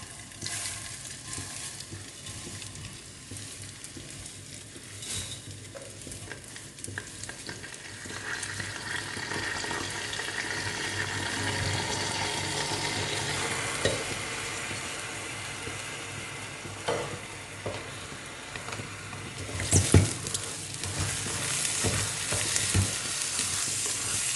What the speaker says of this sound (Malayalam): രണ്ട് മിനിറ്റ് ഇളക്കിയതിന് ശേഷം ഞാൻ അതിലേക്ക് കഴുകി ഊറ്റി വെച്ച അരി ചേർക്കുന്നുണ്ട്